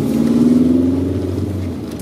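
A 1983 Rabbit GTI drives on sandy back streets with a steady, close engine drone and a rising tone as it accelerates, with no talking.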